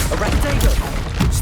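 Bursts of spell blasts in Hogwarts Legacy, including a Bombarda explosion, hitting in quick, loud, chaotic succession amid combat noise.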